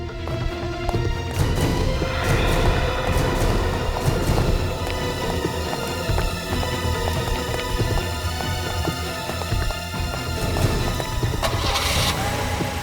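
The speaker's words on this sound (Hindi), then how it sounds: "सीआईडी वाले 2 गाड़ी में निकले हैं बॉस।" Cars pulling away and driving off, engines revving over a busy, loud mix of music and movement noise, with a steady rush throughout and a brief swell near the end.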